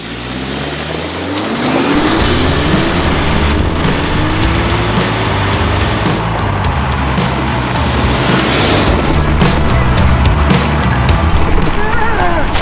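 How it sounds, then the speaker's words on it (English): Rally-prepared Mini driving down a mountain road at night, its engine droning steadily and loud throughout with rising and falling pitch as it changes gear, close and continuous with no talk. "let's drive down the mountain"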